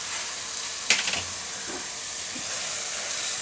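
Spices are stirred and fried in hot oil for dahi paneer, giving a continuous soft sizzling hiss with a brief spoon clatter near the start.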